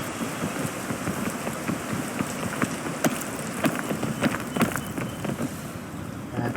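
Steady rain falling in the video game Peak, a constant even patter with faint wind noise and occasional sharper drops, moderately quiet throughout.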